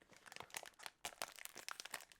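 A smoked salmon food package is torn open with the mouth, giving close, crackling plastic crinkles and sharp tearing rips in quick irregular bursts, with no talking.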